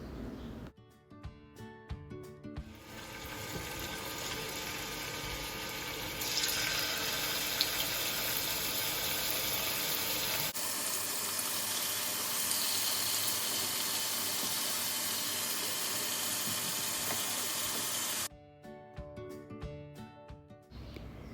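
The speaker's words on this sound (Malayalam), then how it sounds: "അതിന് വേണ്ടിയിട്ട് ഒരു പാൻ വെച്ച് ഓയിൽ ഒഴിച്ച് ഫ്രൈ ചെയ്തെടുക്കാം." Spice-marinated chicken fries in oil in a pan, giving a loud, dense, steady sizzle that holds for about fifteen seconds, bracketed by quieter stretches at the start and end.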